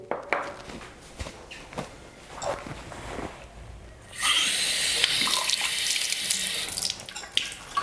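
Water runs from a tap to mix with cornstarch. Soft clinks and footsteps come first, then a steady hiss of flowing water takes over for the last few seconds.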